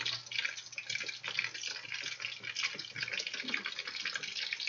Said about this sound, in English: This is bubbling along quite nicely